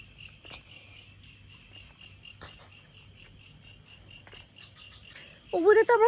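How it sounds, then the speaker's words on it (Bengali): Dense, steady insect trilling of crickets fills a dark night outdoors at a Bali pond with lotus flowers, with a few faint low frog croaks beneath and a louder sharp warbling call bursting in near the end. "ঝিঝি যাচ্ছে, ডাঙের ডাকও শোনা যায়।"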